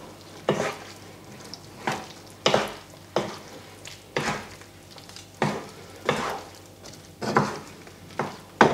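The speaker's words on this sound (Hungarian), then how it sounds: "Alaposan keverjük össze." Carbonara pasta is tossed with egg, parmesan and pasta cooking water in a pan before the heat goes on, giving about ten wet, squelching stirring strokes in a regular rhythm, close and moderately loud with no speech.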